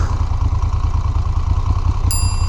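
A Moto Guzzi Eldorado motorcycle engine runs in Turismo ride mode, a close, steady low throbbing rumble with rhythmic mechanical clatter and a brief high tick near the end.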